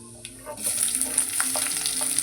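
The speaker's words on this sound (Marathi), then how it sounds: "आता हा कांदा आपण व्यवस्थित परतून घेणार आहे" Onion sizzles in a pan for a ridge gourd vegetable curry, a steady bright hiss that swells after a brief quieter start, with a few faint clinks of stirring mixed in.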